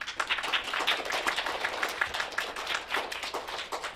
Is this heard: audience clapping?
yes